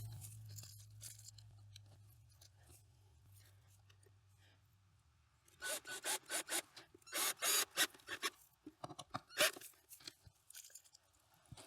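Screws go into a wooden frame to mount 3.5-inch hinges: a faint hum at first, then a string of close, scratchy rasping and creaking bursts as each screw bites into the wood.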